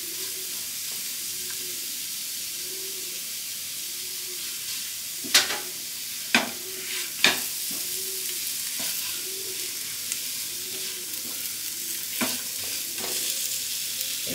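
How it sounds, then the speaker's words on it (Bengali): Raisins frying in ghee in a pan for gujiya filling, a steady sizzle with a soft rhythmic swish of stirring and several sharp spoon scrapes and clicks against the pan. "এরপরে দেবো আমি কিশমিশ।"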